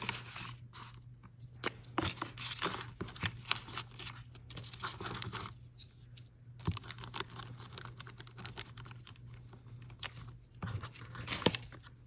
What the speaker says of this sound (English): So just crumpling up a little bit more.